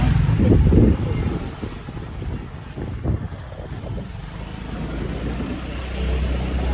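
A motorbike engine hums steadily while riding on roads in Bali, a continuous low drone with wind rush over the microphone, louder at the start, with brief speech in passing.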